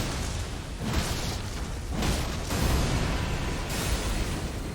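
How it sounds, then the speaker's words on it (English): Video game explosion with a deep, roaring boom and broad noisy bursts that swell and settle over several seconds, loud and close, with no talking over it. "Explosion!"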